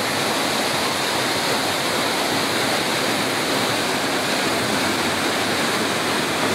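Steady, full roar of the Cascata Antônio Monteiro waterfall at Pocinhos do Rio, a rural spot with water pouring over rocks, continuous and close with no voices.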